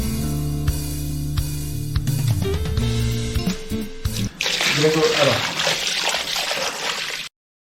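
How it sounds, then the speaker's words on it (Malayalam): Water is poured into a pot of mutton being cooked for a barbecue meal, a steady splashing gush for a few seconds that follows earlier kitchen sounds and stops abruptly. "വെള്ളം ഒഴിച്ച് കഴിഞ്ഞാൽ കുറച്ച് സമയത്ത് വേവിക്കണം."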